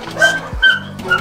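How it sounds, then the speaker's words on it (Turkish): Labrador, Cocker and Border Collie puppies in a farm birthing pen give three short, close yelps and whimpers in quick succession. "Köpekler burada."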